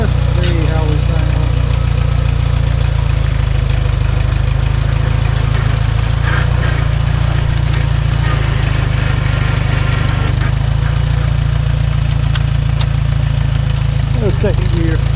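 A Farmall 140 tractor engine runs steadily throughout, loud and close with a constant low chugging idle, while a person speaks briefly over it.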